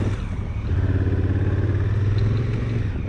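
A Honda Africa Twin motorcycle accelerates in gravel mode with direct drive, giving a loud, close, steady engine drone that holds strong throughout, with no talk.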